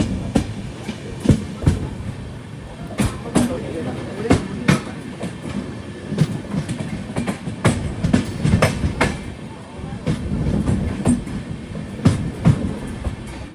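A train, the Matsyagandha Express, rolls along the tracks in the rain with a steady rumble and rhythmic clicking of wheels over rail joints, close by and continuous, with talk faintly underneath.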